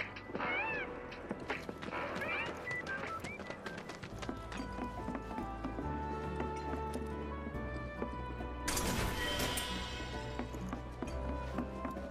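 Several short cat meows in Final Fantasy VII Remake sound near the start, faint and high, over a busy bed of game music and ambience with hoof-like clopping and a brighter swell later on.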